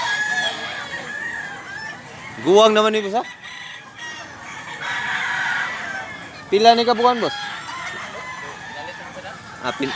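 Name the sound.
rooster crowing (manok) at a farm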